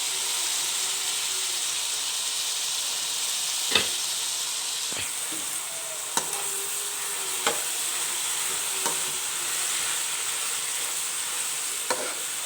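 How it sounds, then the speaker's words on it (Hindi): Potatoes and cabbage frying in a pan, a continuous hissing sizzle with several sharp clicks and taps of a spoon stirring against the pan, steady and close, with no talking. "इनको मैं हल्का सा फ्राई करके आपको दिखाती हूँ"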